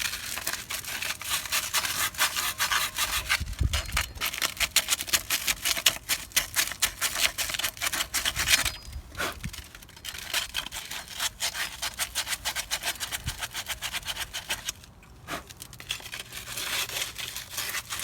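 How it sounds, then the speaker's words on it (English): Old sandpaper scrubs the hub of a Subaru during front brake rotor and pad replacement, a continuous rasping scratch in quick back-and-forth strokes with a couple of brief pauses, close and fairly loud with no talking. "And then clean the hub up a little bit. That's got some old sandpaper here."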